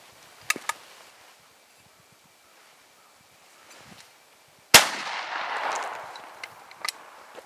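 A short-barrelled IGA Boito Hiker .410 shotgun fires once at a hand-thrown clay target outdoors, a single sharp, loud blast with a decaying rumble, preceded and followed by faint handling clicks and rustling.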